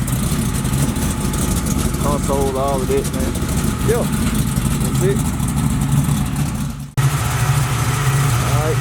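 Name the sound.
small block V8 Buick Regal engine idling through mufflers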